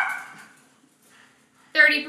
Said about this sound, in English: I don't know what they are barking at.